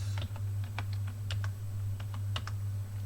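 Keystrokes on a computer keyboard during a Ubuntu 16.04 software install: scattered, quick clicky taps in short uneven runs, close and fairly quiet over a steady low electrical hum.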